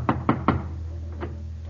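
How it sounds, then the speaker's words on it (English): Three sharp knocks on a front door in a home in wartime Berlin, Germany, struck in quick succession and then followed by a fainter single rap, close and clear over a low background hum. "He knocks on the front door."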